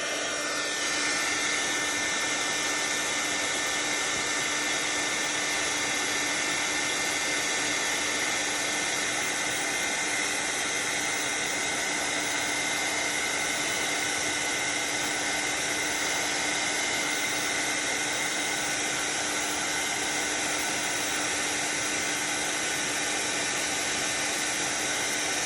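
Heat tool blowing steadily while warming a craft postcard, a constant close whooshing hiss with a faint tonal whine, unbroken and alone throughout.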